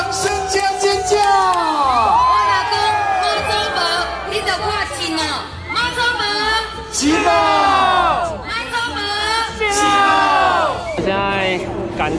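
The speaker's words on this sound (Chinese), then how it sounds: "欢迎来掌声加尖叫" Dense crowd at the Baishatun Mazu pilgrimage procession, screaming, cheering and whooping loudly and continuously up close, with voices shouting and chattering throughout.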